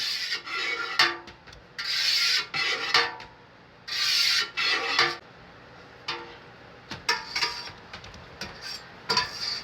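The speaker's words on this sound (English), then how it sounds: "so now we're going to cut our curd" A knife works through a pot of farmhouse cheddar curd, cutting it into half-inch squares, giving bursts of scraping, rasping strokes against the pot in an irregular rhythm, close and fairly clear, with quiet gaps between passes.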